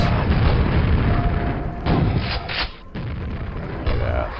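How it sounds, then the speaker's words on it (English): Grenade blasts in the video game Quake, with heavy booming explosions rumbling loudly and overlapping, a couple of distinct bursts rising out of a dense, continuous wash of game noise. "Oh, I could use nades on these guys."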